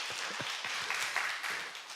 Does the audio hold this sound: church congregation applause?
yes